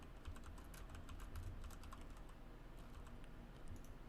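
Rapid, irregular clatter of keys on a computer keyboard, steady typing close by with a low background hum and no talking.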